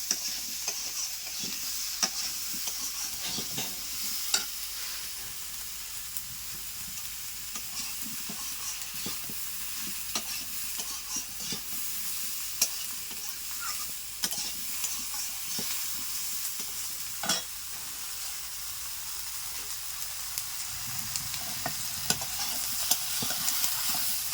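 Potatoes and eggplant sizzle steadily in a pan as a vegetable dish with shol fish cooks, with a continuous frying hiss and repeated scrapes and clicks from stirring throughout, no voices present.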